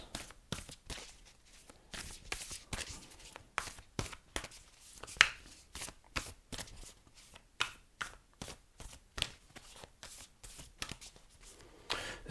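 Tarot cards being shuffled and drawn, a long run of quick riffling and slapping bursts in an uneven rhythm, close and fairly crisp, with no talking.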